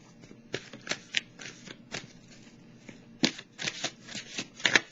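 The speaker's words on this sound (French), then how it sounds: "Je vais piger une carte de mon oracle de l'âme intuitive pour terminer pour le signe du Gémeaux." A deck of oracle cards is shuffled by hand and a card is drawn, giving quick, crisp riffles and flutters in several separate bursts. The sound is close and fairly quiet, with no talking.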